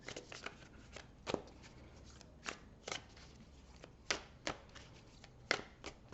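Tarot cards handled and shuffled for a draw: a string of soft, close riffles and papery slaps in an irregular rhythm, quiet and alone with no voices.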